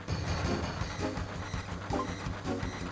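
A train in Final Fantasy VII rumbles along with a low steady roll and rhythmic clacks, quiet and continuous for a few seconds.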